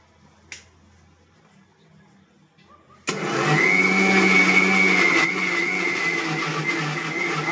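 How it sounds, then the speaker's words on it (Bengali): A countertop blender kicks on abruptly after three seconds of near quiet and a single sharp click, whirring loud and steady as it blends muskmelon juice, its pitch dropping slightly partway through. "আচ্ছা এবার এটাকে ব্লেন্ড করে নিই।"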